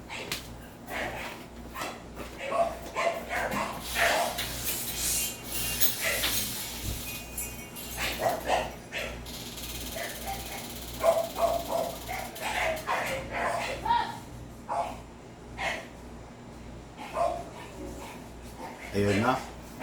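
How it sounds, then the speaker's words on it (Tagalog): A dog barks and yips repeatedly in the background while people talk over it, with scattered clatter and bustle nearby. "kasi ang ingay ng aso"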